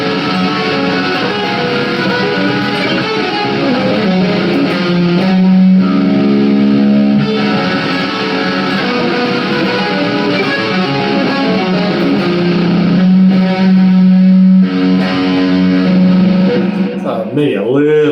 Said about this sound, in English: we'll go back to the distortion reverb.